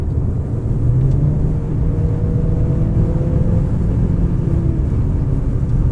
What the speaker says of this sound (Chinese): 只是一直会有这种路面的声音啊